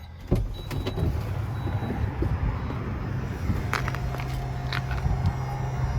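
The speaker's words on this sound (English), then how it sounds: "I pushed auto level, and you can hear them activating" Steady mechanical motor whine with a low hum as the auto-leveling hydraulic jacks of a Jayco Seneca Super C RV lower, grinding and droning continuously, a few small clicks and knocks on top.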